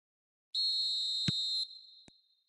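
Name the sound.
referee whistle at kick-off in a football video game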